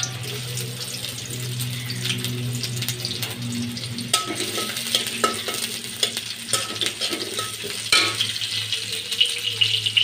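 Chopped onion frying in oil for an egg curry with cabbage, a steady sizzling hiss with scraping stirring strokes and occasional clinks of a spoon against the pan, close and continuous.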